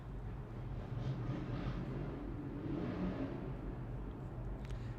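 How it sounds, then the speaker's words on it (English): Motorcycles passing outside make a muffled, distant low engine rumble that swells and recedes continuously, heard from indoors with no talking. "I am hearing motorcycles."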